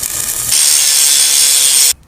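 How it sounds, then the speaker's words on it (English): An angle grinder cuts metal for a go-kart swing arm, giving a loud, steady, high-pitched grinding whine that holds for nearly two seconds before cutting off abruptly. "See, this is what angle grinders are for."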